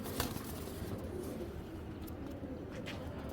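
An old-breed Shapchila pigeon coos low and steady amid a loft of pigeons, the soft throaty murmur sitting under a constant noisy background hum.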